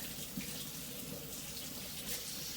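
Water runs steadily from a tap into an empty bowl on a kitchen scale while sourdough is prepared, a continuous close hiss and splash with no talking.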